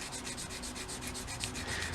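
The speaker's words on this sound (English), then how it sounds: "so we might have to just keep sanding" Steady rhythmic rubbing and scraping of a sanding stick on a 1/35 scale plastic model fender, close up, in quick repeated strokes.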